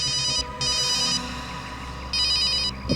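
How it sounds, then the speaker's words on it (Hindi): A mobile phone ringtone plays in two electronic ringing bursts separated by a pause, loud and close with a steady hum beneath and no speech. "अभिजीत का फोन है।"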